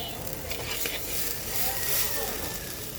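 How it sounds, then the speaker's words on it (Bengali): Prawn dopiaza masala is stirred and sautéed in a pan, with a continuous moderate sizzle and soft scraping throughout. "মশলাটাকে আরও সময় নিয়ে আরও সুন্দর করে কষাবো"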